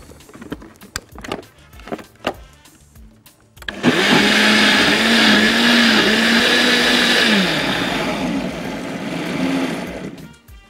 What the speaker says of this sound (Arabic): اضربهم الاول لوحدهم كده السبانخ واللبن عشان ادوبه بس خالص